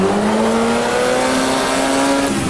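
Formula Junior race car in the Automobilista 2 racing game, its engine note dropping in steady steps as it downshifts to first gear, loud and close with no talking.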